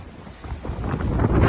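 Wind rises on a racing sailboat out at sea, as a rushing gust buffets the microphone and grows steadily louder over a brief moment.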